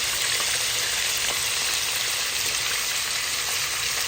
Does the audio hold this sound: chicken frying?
yes